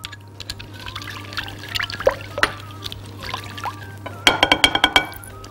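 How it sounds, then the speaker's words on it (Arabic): Sweet chili sauce is poured into a chicken marinade, a close, soft liquid trickle followed by a run of quick glassy clinks and taps near the end. "حبه من السويت اند تشيلي برضو في التتبيله"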